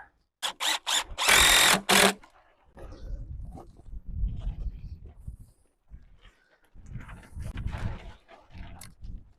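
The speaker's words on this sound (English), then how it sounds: "I pre-drill all my holes." A power drill pre-drilling holes whirs in several short bursts at the start while building a chick brooder outdoors, then someone talks over wind noise and handling sounds.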